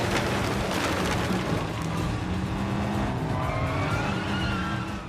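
Car chase in the video game 007 First Light, a continuous engine roar with tire squeal and skidding and a rain-like hiss, loud and sustained before easing slightly at the end.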